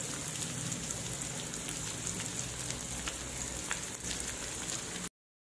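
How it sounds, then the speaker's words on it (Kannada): Two onions frying in a pan, a close, steady crackling sizzle that continues for about five seconds before it cuts off abruptly, with no talk. "ಈರುಳ್ಳಿ ಹಾಕ್ತೀನಿ, ಎರಡು ಈರುಳ್ಳಿ."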